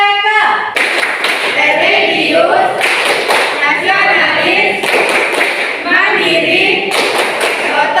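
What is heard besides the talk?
rhythmic PPK clap chant by a group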